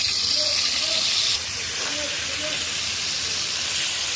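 Loud, steady hissing sizzle of rohu fish pieces, coated in salt, turmeric and chili, frying in hot oil in a large wok, with faint voices murmuring underneath.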